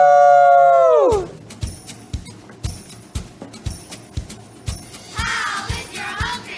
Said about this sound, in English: So let's go ahead and give a great big howl